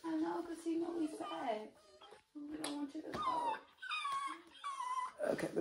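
A sad dog whimpers and whines in high, wavering cries, several drawn-out squeals close by, while people talk intermittently around it.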